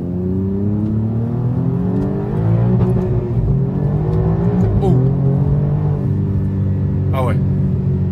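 A turbocharged Alfa Romeo Giulia Quadrifoglio sedan accelerates hard, a loud in-cabin engine drone rising in pitch with a gear change midway, while passengers talk over it.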